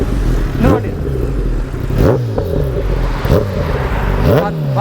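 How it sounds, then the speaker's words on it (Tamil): A Kawasaki ZX10R sport motorcycle revved repeatedly up close, four sharp throttle blips rising and falling over a steady idle rumble, each burst loud and aggressive. "இந்த வண்டியோட எக்ஸாஸ்ட்டே வேறு லெவலில் இருக்குது."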